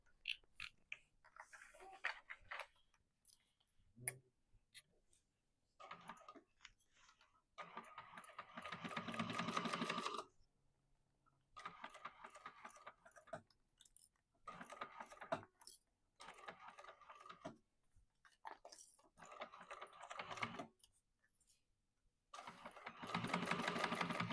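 A sewing machine basting layers of a quilt runs in short bursts of steady stitching, each lasting a second or two and separated by quiet pauses, close by and fairly soft.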